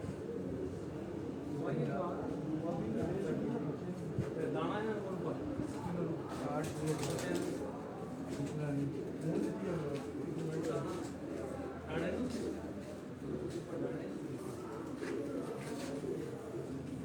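Two pigeons that have paired up coo on a rooftop along Rawat Chak Beli Road, a dense, ongoing low burbling mixed with rustling and the sounds of other birds, heard at a modest distance and level.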